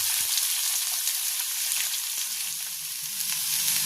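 Brinjal and potato pieces hit hot oil with ginger already fried in the pan, giving a continuous bright sizzle with faint stirring scrapes throughout, steady and close, no talking.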